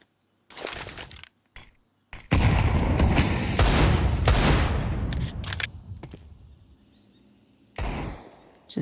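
Pistol fire during a professional Counter-Strike match, several sharp shots and bursts with a stretch of sustained firing in between, loud and close, with no voices.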